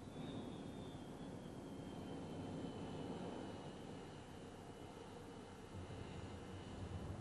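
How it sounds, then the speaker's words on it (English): A NASA QSRA experimental four-engine jet, a quiet short-takeoff research aircraft, gives a steady, fairly faint broadband roar with a thin high whine that holds evenly from start to finish, with no talk. "the QSRA is the quietest four-engine jet in the world"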